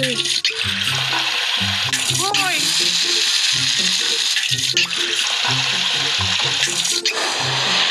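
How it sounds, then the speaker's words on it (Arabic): Water in a video game level makes a steady, loud rushing splash throughout, mixed with game music and short chirping effect tones. "شو عم تعملوا؟ دي مية."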